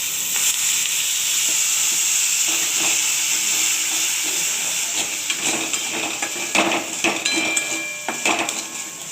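Water is poured into hot caramel in a pan, producing a loud, steady hiss and sizzle up close, later broken by a few sharp clinks and bubbling pops as it settles.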